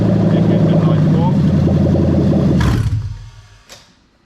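Toyota UZ-FE VVT-i V8 in an Altezza RS idling with a steady, loud, low rumble, then cutting out abruptly and leaving near silence with a faint click.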